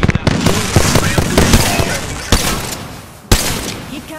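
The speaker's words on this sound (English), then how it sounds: "Opening fire." Game gunfire cracks in rapid bursts of sharp, loud shots, with irregular volleys running close together and brief pauses between them. Faint voices sit underneath.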